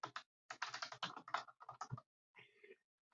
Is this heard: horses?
no